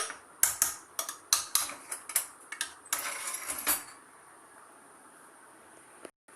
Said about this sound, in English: So let us transfer this to the bowl.